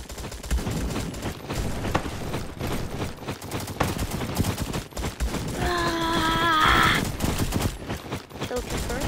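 Rapid automatic gunfire in a shooter video game, dense bursts of shots running throughout with a wailing tone midway, while a player talks over it.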